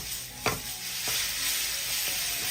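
Beans and long-cut carrot strips sizzling steadily in a frying pan, with a few distinct scraping strokes of a spatula stirring them through the continuous hiss; no voices.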